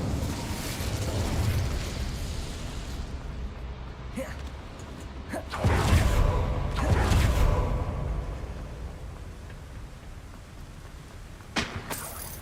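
An Incendio fire spell cast in Hogwarts Legacy, heard as a few whooshing, crackling fiery bursts around the middle over a steady game ambience, with brief pops near the end.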